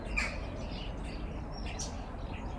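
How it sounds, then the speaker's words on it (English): Bird calling in a home garden in spring, a few bright chirps and a harsher caw-like call standing out over quiet outdoor background, fairly faint and distant. "Hear that bird?"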